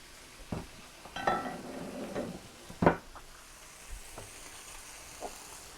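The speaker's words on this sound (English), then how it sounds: "Any juice that's come out, put that in, stir it around." Pork tenderloin and its juices are stirred in a pan, with soft scraping and utensil knocks over a faint sizzle, close and quiet.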